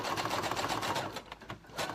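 A sewing machine stitches across the top of a fabric tie to hold it in place, a steady close mechanical whirr that runs nearly two seconds with a brief dip and pause before picking up again.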